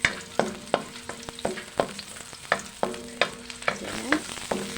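Garlic frying in a little oil in a pan, with repeated sharp scraping strokes of a utensil stirring at a steady rhythm over a soft sizzle, close and fairly quiet.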